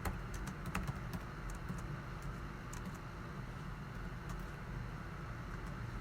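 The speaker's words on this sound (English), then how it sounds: "Now I'm going to quickly type in my Python code" Python code typed quickly on a computer keyboard, a steady run of light, rapid key clicks close by over a constant low background hum.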